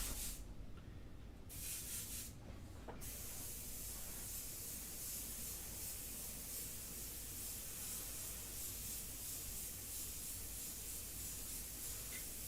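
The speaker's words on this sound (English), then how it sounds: "my customized Xtreme 105 is a great airbrush to have in your arsenal" Close, steady hiss of an Xtreme 105 airbrush spraying India ink, a near-continuous airy spray that stops briefly twice near the start and then runs unbroken at low level.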